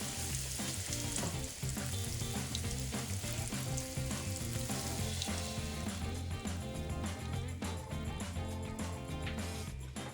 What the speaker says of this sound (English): Nick's cousin Maria dredges them in a little flour and fries them up in some oil